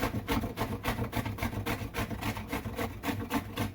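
Green plantain rubbed against the blades of a metal cheese grater, giving a steady run of rhythmic rasping strokes, about three per second, close up and without talk.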